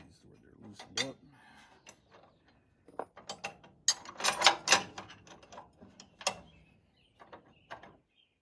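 A wrench works a fitting loose on a 1962 C30 power steering conversion, giving irregular close metallic clicks and ratcheting clatter in short clusters, with a voice speaking in between.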